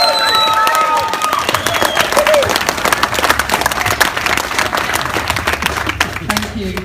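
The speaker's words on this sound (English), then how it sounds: "big round of applause, Deputy Leader Jayda Fransen!" A crowd at a street march breaks into loud, dense applause and cheering, sustained and close throughout, with a voice calling out over the clapping.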